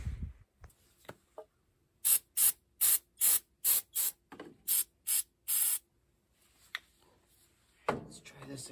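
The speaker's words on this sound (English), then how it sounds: "put some starting fluid in the carburetor" Starting fluid sprayed into the carburetor of a 1986 MTD riding mower comes as about ten short, loud, close aerosol hisses in quick bursts, with quiet handling clicks and knocks before and after.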